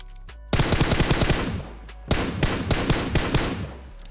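Rapid bursts of automatic gunfire in a shooting video game, two long loud volleys of closely spaced shots separated by a short pause, with no talk over them.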